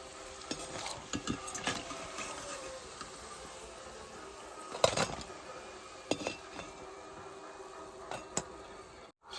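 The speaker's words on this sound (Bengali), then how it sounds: "এই যে দেন কি সুন্দর ভাজা হচ্ছে" Coconut-filled puli pitha frying in oil with a steady soft sizzle, punctuated by light clinks and scrapes of a utensil against the pan, close and without speech.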